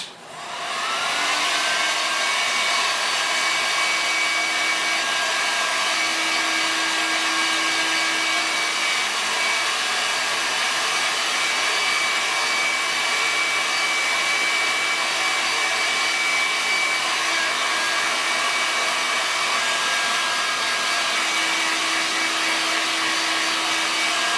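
Heat gun blowing hot air onto an HDPE milk bottle, a loud steady whooshing drone with a high whine, running unbroken for the whole stretch.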